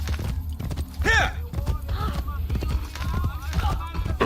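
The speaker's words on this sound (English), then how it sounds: "I am stealing your horse." A horse gallops in the Assassin's Creed video game, rapid hoof clip-clops under a whinny and music, with someone talking over it.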